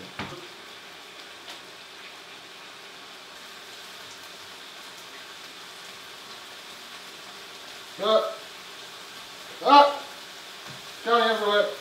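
Food fries in a pan with a steady, even hiss that runs throughout, close and moderately loud, while brief bursts of talk break in near the end.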